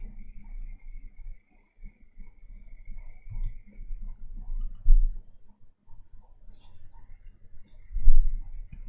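Computer mouse and keyboard clicking during a CorelDRAW design session, a scatter of light, quick clicks spread over several seconds at moderate level with a faint steady hum underneath.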